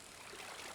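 Waterfall in the video game Stardew Valley, a steady, soft rushing of flowing water heard alone, faint and continuous like a distant stream.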